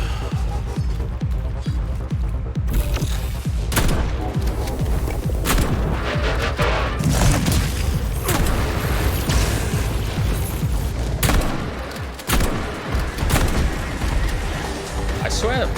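Gunfire and mechanical combat noise from the video game Atomic Heart, with dense repeated shots and booms blending into a loud continuous mix while a player talks over it throughout.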